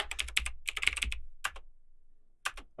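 A password is typed on a computer keyboard during Windows XP setup, with close, quick bursts of key clicks, a short pause, then a few more taps.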